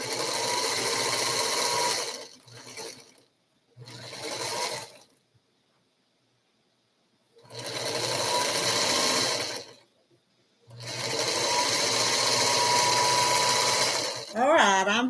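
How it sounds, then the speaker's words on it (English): Sewing machine stitching quilt fabric, running in long steady bursts separated by pauses, close and fairly loud, with a brief voice near the end. "Let me sew onto this scrap here."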